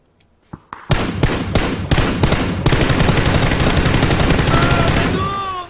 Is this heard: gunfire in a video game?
yes